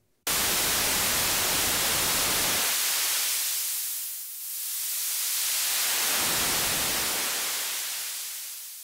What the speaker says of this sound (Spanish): El primer ruido que tenemos se le conoce como high y se le está aplicando un high pass filter.